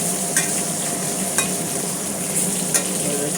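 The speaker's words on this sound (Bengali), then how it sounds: "দিয়ে এটাকে কিন্তু ভালো করে ভাজা করে নিতে হবে।" Long-sliced eggplant frying in oil in a pan, with a steady close sizzle and soft stirring scrapes recurring about every second; no voices.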